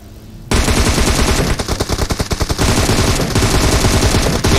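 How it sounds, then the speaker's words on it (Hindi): Rapid automatic gunfire in the PUBG Mobile video game bursts in suddenly after a quiet moment, loud close rattling volleys with a stuttering rhythm that keeps going, no speech. "मुझे पड़ गई गोलियां"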